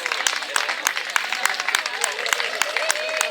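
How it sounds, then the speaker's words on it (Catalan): Crowd applause at an outdoor clown show, scattered hand claps with distinct loud individual slaps over a busy background of voices and children's chatter. "Un aplaudiment, com aquí."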